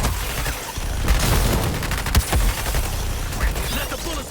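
Dense video-game gunfire in Suicide Squad: Kill the Justice League, a loud continuous fusillade of rapid shots and booming impacts, with sharp louder blasts standing out amid the barrage.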